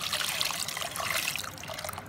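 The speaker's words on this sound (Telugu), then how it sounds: "దీనిలో ఇప్పుడు మనము చల్లటి నీళ్లు ఫ్రిజ్లో ఈ చల్లటి నీళ్లు పోసుకోవాలి" Cold water from the fridge is poured into a vessel of churned cream while making butter at home, a soft, close trickle that runs steadily and tapers off near the end.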